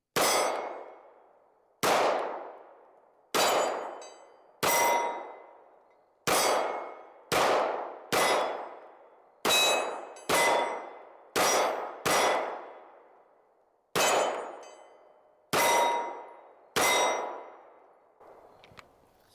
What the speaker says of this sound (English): I'll shoot on the Texas Star.